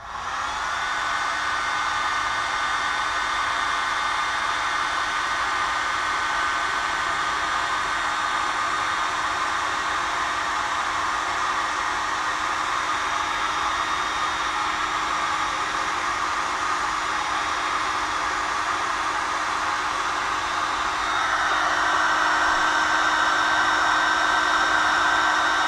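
A heat gun blowing steadily to shrink heat-shrink tubing over a ring terminal wire connection on a Honda CB350 wiring harness, a continuous loud whooshing hiss with a slight shift in tone near the end.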